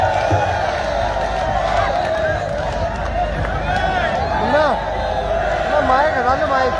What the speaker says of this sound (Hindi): आपका शोर, आपकी तालियों की भीड़ वहां से शामिल हो